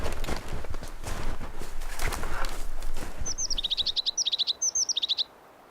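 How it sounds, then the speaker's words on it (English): A crested tit gives a rapid run of high, thin trills and chirps close by, repeating in quick bursts as it pecks at the rotting trunk of an old birch tree in a forest; faint rustling comes first, before the calls. "crested tits like this one, gratefully pecking out a new nesting hole in the rotting trunk of an old birch tree"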